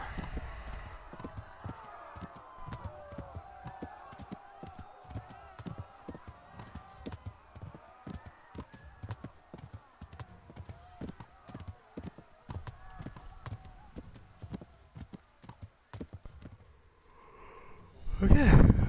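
Hooves of a galloping horse in Kingdom Come Deliverance drum in a fast, steady clip-clop rhythm, moderately close, with a louder burst of noise near the end.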